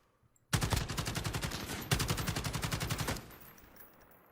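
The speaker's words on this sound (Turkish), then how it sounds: "Allah'ım elimdeki silah çok fazla sekiyor." Two sustained bursts of rapid automatic gunfire from a player's rifle in Call of Duty Warzone, loud and close with a steady rattling rhythm, separated by a short gap and followed by quieter game ambience.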